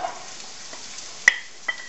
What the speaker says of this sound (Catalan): Primer de tot fregirem ceba que hem tallat trossos petits